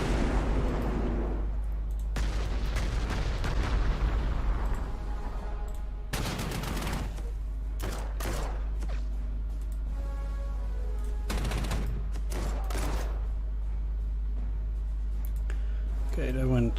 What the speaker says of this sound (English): Let's shell them first, at least once.